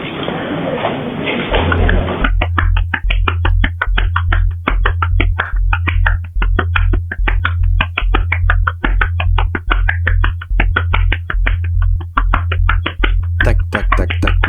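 Rapid, steady tapping imitates a fast beating heard inside the head, with evenly spaced sharp clicks over a pulsing low thump. It runs loud and close for over ten seconds after a brief stretch of low voice at the start.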